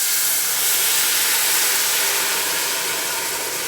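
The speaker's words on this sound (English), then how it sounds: "So it's going to make a lot of steam." Liquid tipped into a hot pan to deglaze it bursts into a loud, continuous steam hiss, broad and unbroken, close up and with no talk over it.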